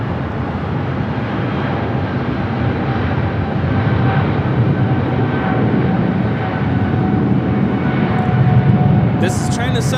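An Air China Boeing 777-300ER taking off from LAX bound for Beijing: a loud, steady jet engine roar with a faint whine, heard from a distance and unbroken across the stretch, with voices talking over it.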